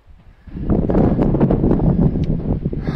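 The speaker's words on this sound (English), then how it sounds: "The wind is blowing towards me, all that smoke" Wind buffets a microphone outdoors in smoky mountain haze, a loud rumbling gust that swells in after a quiet start and keeps battering the mic.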